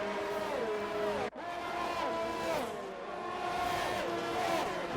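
Formula 1 racing cars in a video game race, Mercedes, Haas and Renault among them, with high engine whines rising and falling through gear changes as several cars pass close, plus one sharp brief crack.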